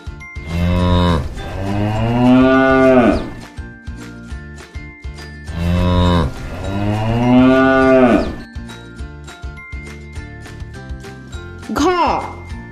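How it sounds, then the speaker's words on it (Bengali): Cows and calves mooing close by, two long, loud bellowing moos followed by a shorter higher call, with faint bell jingles in the pauses between them. "গয়ে গরু বাছুর দাঁড়িয়ে আছে।"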